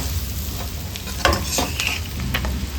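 Pork with Coorg black masala frying over high flame, stirred with a spatula: loud continuous sizzle with several sharp scrapes and clacks against the pan.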